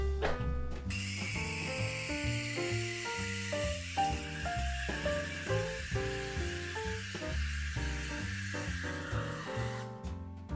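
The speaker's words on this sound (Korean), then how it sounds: "스팀 팁이 액체에 완전히 담겨져 있다 보니까 공기 주입이 전혀 이루어지지 않고 있고, 오히려 삐 하는 소리랑 함께 물이 끓는" Steady, close hissing of an espresso machine steam wand with its tip fully submerged in milk, paired with a shrill squeal that shifts in pitch, running continuously for about ten seconds.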